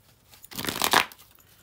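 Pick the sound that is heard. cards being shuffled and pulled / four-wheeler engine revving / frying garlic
cards being shuffled and pulled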